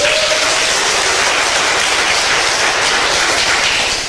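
A studio audience applauds during a talk about an amino acid supplement, a dense, continuous clapping that holds steady and loud for the whole span.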